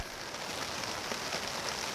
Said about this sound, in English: It's been pouring rain since, I don't know, 10 a.m.